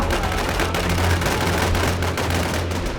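Constant, dense gunfire during a match of the video game Infestation, a loud, steady wash of rapid shots and bursts with a low rumble underneath and no pauses.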